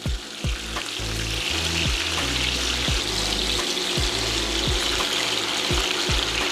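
Chicken pieces sizzle and crackle steadily in a hot frying pan after being flipped for browning, a dense continuous fry close up with a few soft clunks and taps and no talking.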